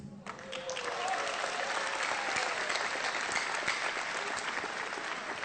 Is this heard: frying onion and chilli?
no